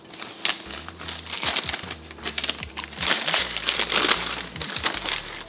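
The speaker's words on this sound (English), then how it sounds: "Would you like to unwrap it, Laura?" Crinkling and crumpling of wrapping paper as a wine bottle is unwrapped, close and fairly steady over several seconds with sharp rustles and tears and a low hum beneath.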